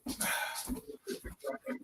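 A dog barks in a quick string of short, sharp yips and barks, fairly close, with a bit of noise around them.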